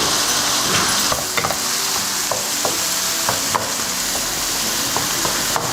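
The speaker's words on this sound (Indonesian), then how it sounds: "Sekarang kita akan masukin seledri, udang, dan juga cumi ya." Garlic, celery, shrimp and squid stir-frying in a pan, a loud steady sizzle broken by sharp clanks and scrapes of a utensil tossing the ingredients, close and uninterrupted by talk.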